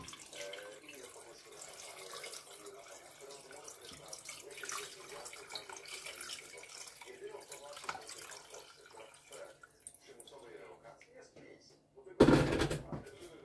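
Tap water runs into a pot over raw chicken for Polish rosół soup, a steady splashing stream under a person's talk, ending in a brief louder clatter.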